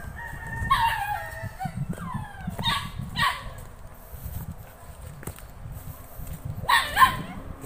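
Young Phu Quoc ridgeback dogs, puppies around three months old, at a ridgeback conservation center in Phu Quoc let out several short yelping barks over rustling and low background noise.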